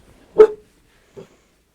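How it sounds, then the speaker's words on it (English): A single loud dog bark close by, followed after a pause by a fainter short yip, in an otherwise quiet room. "The dog barked."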